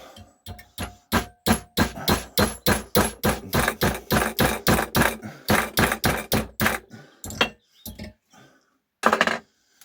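Rapid, steady hammer blows ring on a nail held in a vise, around two dozen sharp clanking strikes in quick rhythm, then a few slower, scattered taps.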